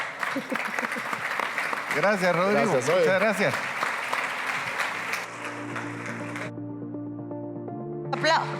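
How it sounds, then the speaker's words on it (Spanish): An audience applauds panelists at a business summit in Guatemala, a dense clapping wash under someone speaking, then the applause thins and gives way to steady tones from music or sound playing. "Fuerte los aplausos para cada uno de nuestros panelistas"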